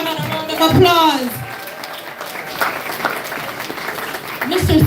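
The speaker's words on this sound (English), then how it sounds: "Let's give our keynote speaker another round of applause." An audience at a high school valedictory ceremony applauds the keynote speaker, its clapping blending under loud, excited talk and cheering close to the microphone.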